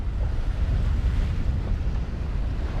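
Ocean waves of about two feet rushing past a fast-moving boat, heard from the bow with heavy wind buffeting, a loud continuous low roar and splash without voices.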